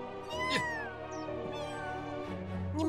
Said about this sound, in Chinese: 那只可怜的小猫被他吓得一直在叫呢